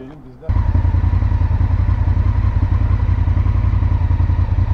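A motorcycle engine starts up and runs loud and close with a steady, pulsing low throb and mechanical clatter, at a night meetup of adventure bikes such as an Africa Twin, Tenere 700, CRF250 and Tracer 700.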